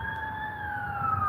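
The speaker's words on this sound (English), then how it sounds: "Let's let the sirens go by." A siren wails steadily at a fairly constant pitch, sounding moderately distant over a low rumble of traffic.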